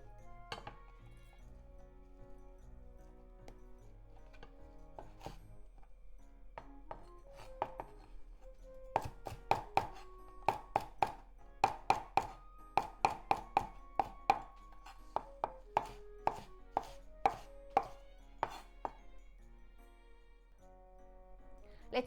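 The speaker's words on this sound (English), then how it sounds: "Cut the bottom off and stems into small pieces and the leafy part rather big." A knife chops fresh coriander on a cutting board, cutting the stems into small pieces and the leafy tops coarser; sharp, close blade knocks start sparse, then fall in quick, steady bursts with brief pauses, alone without talk.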